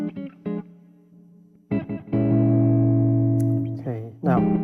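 Synth tones from the Mela 2 iOS synthesizer with distortion switched on, a buzzy sustained note after several short stabs, loud and close with no voice over it.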